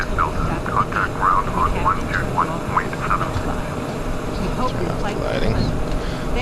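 A steady roar from an Embraer ERJ regional jet taxiing in Microsoft Flight Simulator X, a continuous engine drone with indistinct voices running over it throughout.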